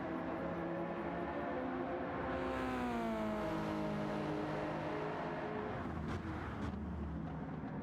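Subaru BRZ race car in Gran Turismo 7, racing in a World Touring Car 800 league event at Montréal, its engine droning steadily with rising and falling pitch sweeps as it revs and shifts, loud and continuous, joined by other cars' noise.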